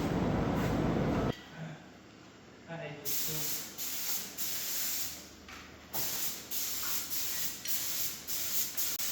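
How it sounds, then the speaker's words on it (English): A spray gun applies primer to a truck hood on a farm in a series of short, loud hissing bursts. An opening stretch is louder and continuous, then repeated pulses follow close by. "Spraying on the primer."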